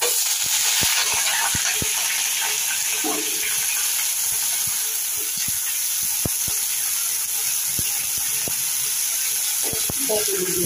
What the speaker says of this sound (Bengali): বকুলিগুলোদের আমি এইভাবে মেরে লাল করে নেব